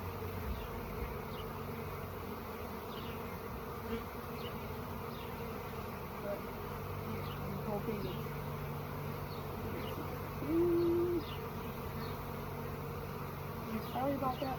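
Honey bees buzz around an open hive in a steady, low, continuous drone with faint scattered individual buzzes, under a beekeeper's brief quiet speech.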